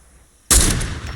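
Sudden burst of gunfire in Fortnite Save the World erupts after a near-silent start, loud and dense, sustained as a rapid volley for the rest of the moment.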